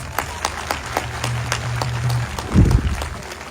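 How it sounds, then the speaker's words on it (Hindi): A crowd at a Kshatriya warriors' gathering applauds, scattered distinct claps over a steady clapping bed, with a low hum underneath and a brief deep thump near the end, heard from a middle distance. "आप जब तक तालियां नहीं बजाएंगे उसका हौसला नहीं बढ़ेगा"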